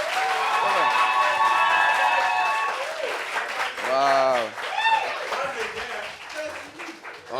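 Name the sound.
applause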